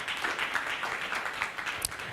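A scientific symposium audience in a hotel hall gives a steady, moderately faint round of applause with continuous clapping and no speech over it.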